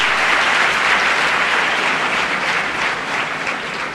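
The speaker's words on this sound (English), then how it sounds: "Yes, a good clap for him." A large lecture audience at a youth convention claps for a man who has just answered from the crowd. The applause is loud and dense, and it thins slightly toward the end.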